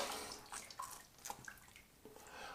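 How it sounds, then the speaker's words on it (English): Running water splashes and trickles as shave soap is rinsed off in a sink, soft and close with uneven spattering and dripping over a couple of seconds. "let's rinse"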